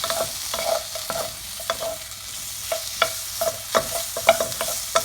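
Shrimp and garlic stir-fry in a pan, a loud steady sizzle punctuated by frequent scraping and clacking strokes of a utensil against the pan, with no voices.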